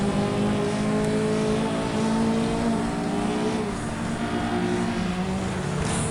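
Race cars roar off at the start of a sand race in the video game FlatOut, a dense, continuous engine drone with layered revving pitches, loud and steady throughout.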